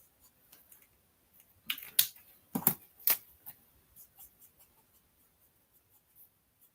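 Colouring on paper with a pen or pencil for card making: close scratchy strokes in several quick bursts, then lighter scattered scribbles as the paper is worked, with no talking.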